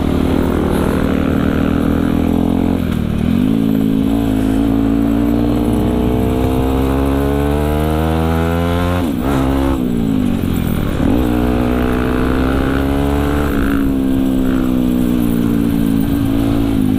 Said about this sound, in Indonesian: Banyak motor-motor balap di sini.